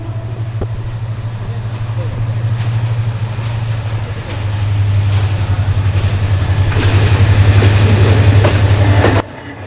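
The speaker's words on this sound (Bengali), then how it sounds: "আমরা ট্রেনের যে শব্দ সেটা শুনতে পাচ্ছি" A train runs through the forest of Lawachara National Park in Kamalganj, a loud, steady rumble with clattering wheels that swells closer over several seconds before cutting off sharply, with a voice faintly present.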